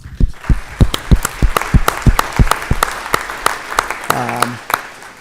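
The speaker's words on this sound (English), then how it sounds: "big round of applause for the committees and the boards and the commission" Audience applause at a town meeting, made of sharp separate claps in an uneven rhythm that sound more like a modest group than a roaring crowd, with a brief tonal sound near the end.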